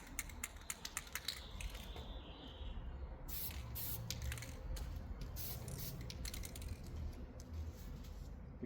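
A spray paint can lays a coat on a Jackson DKMG guitar body during a color-shift refinish, in several close, sustained hissing bursts after a few sharp clicks at the start.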